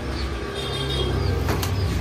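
A male Saharanpuri highflyer pigeon, released by hand, bursts into flight with a quick flurry of flapping wings, heard close over a steady background murmur.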